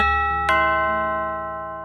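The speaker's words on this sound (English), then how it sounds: "That's weird. I didn't think we had a doorbell." A doorbell chimes with sustained bell-like tones, a single bright strike midway, ringing clearly and steadily with no voices over it.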